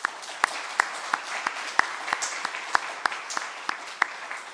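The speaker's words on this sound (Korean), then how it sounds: "우리 박수 한번 할까요?" A church congregation applauds at a mission conference, a steady crowd of clapping hands with a few sharper claps standing out, moderately loud and without speech.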